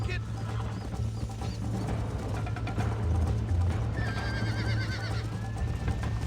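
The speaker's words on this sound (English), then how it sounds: "that damn horse just threw me off" Horse neighing and whinnying with clip-clopping hooves in the video game Red Dead Redemption, steady and fairly loud, with game ambience and faint bird calls behind.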